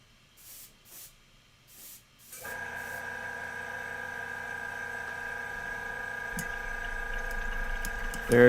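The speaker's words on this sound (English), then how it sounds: "There's the old airbrush." An airbrush sprays paint onto a Warhammer 40k Necron Overlord miniature, a steady close hiss over a faint compressor drone that begins after a few soft clicks and puffs, with no one talking.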